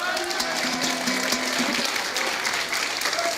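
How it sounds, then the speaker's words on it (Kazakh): Applause at a Kazakh wedding bride-unveiling ceremony, a dense, steady crowd clapping that fills the whole stretch at moderate loudness, with faint voices mixed in. "Шапалақ!"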